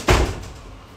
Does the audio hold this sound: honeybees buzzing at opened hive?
no